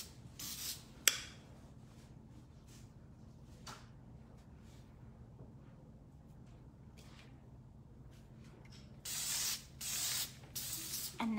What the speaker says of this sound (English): So I'm gonna spray it with Toshik three-way hairspray.